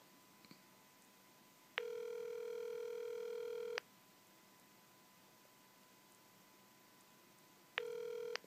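Two bursts of a steady telephone ringing tone from a call placed on an iPod Touch 4G, a long ring of about two seconds followed by silence, then a second ring cut short, over faint hiss.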